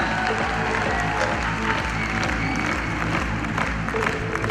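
Dense, sustained audience applause at a business opportunity meeting, loud and steady throughout, with rhythmic music beats underneath.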